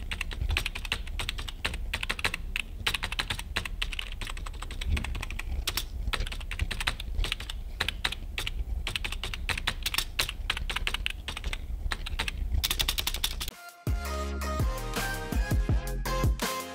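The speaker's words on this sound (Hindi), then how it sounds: "अब मेम्ब्रेन स्विच है, मैकेनिकल तो है नहीं, लेकिन फिर भी साउंड आपको सुना के जाऊंगा।" Fast, continuous typing on a Cosmic Byte CB-GK-20 Styx TKL membrane gaming keyboard, dense soft key clatter heard up close, then a brief pause followed by slower, more separate keystrokes near the end.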